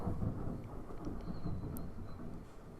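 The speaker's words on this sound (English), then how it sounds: "Storm is rolling in." Thunder from an approaching storm rolls as a continuous low, heavy rumble, fairly steady in strength throughout with no voices.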